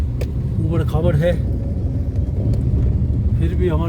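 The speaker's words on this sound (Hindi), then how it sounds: "गाड़ी बहुत ही कुशलता से चला रहे हैं।" A car drives the rough, bumpy mountain road from Sangla toward Chitkul village, its engine a constant low rumble close by, with people talking over it at intervals.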